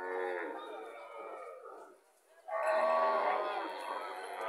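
A dairy cow at a farm lets out two drawn-out, fairly loud moos, the second louder and fuller after a brief pause, with faint crowd chatter in the background.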